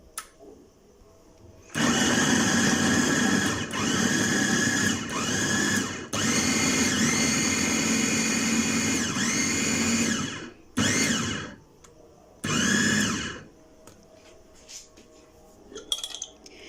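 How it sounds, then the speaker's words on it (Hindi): Electric chopper whirring loudly as it minces garlic cloves for homemade paste, running in several bursts: one long stretch of about eight seconds, then two short pulses, with quiet gaps between. "ये देखिए जी, बहुत ही अच्छे तरीके से फाइन तरीके से चॉप हो गया लहसुन।"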